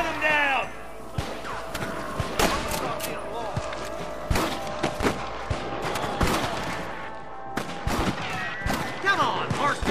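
Gunfire from the Red Dead Redemption video game: repeated sharp shots, some in quick bursts, cracking loudly through an ongoing game battle while characters shout.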